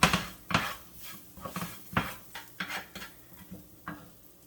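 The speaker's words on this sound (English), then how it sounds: "Make sure those spices are nice and toasted." Five spice, cloves and paprika toasting in a pan, heard as a series of close clinks and scrapes of a utensil against the metal pan over a faint sizzle, with no talking.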